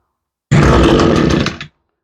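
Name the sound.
Echo SRM 225 string trimmer engine starting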